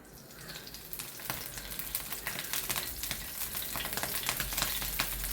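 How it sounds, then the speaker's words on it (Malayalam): Fish frying in hot oil with curry leaves added, a steady close sizzle with crackling bursts and light spattering that builds slightly over five seconds, no voices. "മീൻ വറക്കുമ്പോൾ ഇങ്ങനെ കരിവേപ്പിലയൊക്കെ ഇടുവാണെങ്കിൽ നല്ലതാണ് കേട്ടോ"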